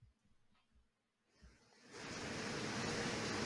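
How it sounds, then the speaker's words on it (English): Heavy rain pours down outdoors. After a quiet stretch of low rumbles and soft knocks, a loud, steady roar of rushing rain swells in and holds to the end. "It's pouring rain outside."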